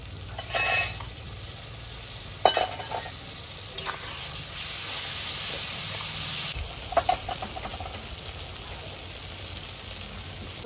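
Green chilli paste, garlic paste and coriander paste frying and being stirred in a pan, a continuous sizzle with intermittent scraping and clinking from stirring, close and fairly loud.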